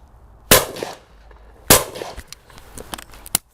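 Two loud, sharp shotgun blasts ring out at clay targets, spaced about a second apart, each with a short tail of echo, followed by faint clicks and handling noises.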